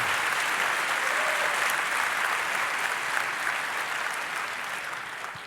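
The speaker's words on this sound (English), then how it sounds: "Please welcome, with a warm applause," Warm, steady applause from a large conference audience at a hacker congress welcoming two speakers, continuous dense clapping that stays loud throughout and eases off gradually toward the end.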